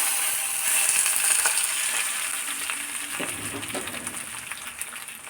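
Mustard seeds crackling in hot coconut oil are poured into a Kerala-style sambar, giving a steady close hiss and sizzle with a soft splash and bubbling as the tempering hits the pot.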